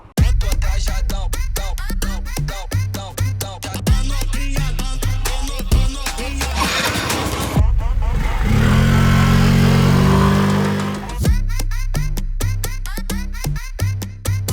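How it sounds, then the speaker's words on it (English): A Hero Xoom 125 scooter's engine fires up and picks up speed, a steady mid-pitched drone that swells into a louder, rougher surge midway before settling back to a smooth running hum, heard up close. "open the throttle, and it will fire up the engine"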